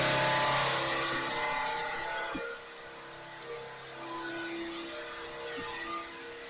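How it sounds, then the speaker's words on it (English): Garage air compressor motor kicking on, a steady mechanical hum with a droning whine that dips and settles after a brief clunk, moderately loud and nearby. "But it's of course the air compressor kicks on."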